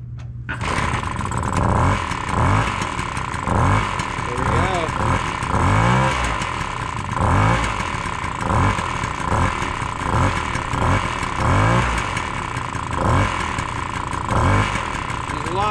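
A 1975 Cimatti City Bike moped's small two-stroke engine runs steadily and loud, buzzing with repeated revs that rise and fall over the whole stretch, with a voice faintly under the engine.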